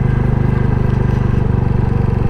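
Royal Enfield Classic 350 single-cylinder engine thumping steadily while riding, a close, loud low pulsing rhythm with no voices.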